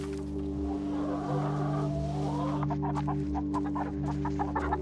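Chickens cluck on a farm in a run of short, close calls over a steady low mechanical hum that lasts throughout.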